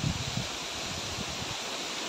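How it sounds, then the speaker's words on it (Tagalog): Strong wind gusting outdoors, a steady broadband rush with low rumbling buffeting against the microphone, continuous and fairly loud throughout with no voices. "Lakas ng hangin, grabe."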